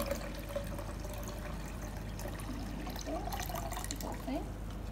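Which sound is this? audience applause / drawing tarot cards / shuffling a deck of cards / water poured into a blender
water poured into a blender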